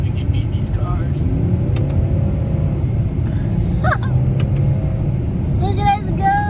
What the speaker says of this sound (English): This is a diesel Cayenne, but I have it in sport mode, have it in paddle shifty mode.